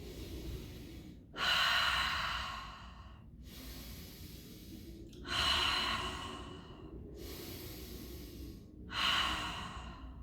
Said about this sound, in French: On fait d'abord 10 respirations par le nez, on expire par la bouche.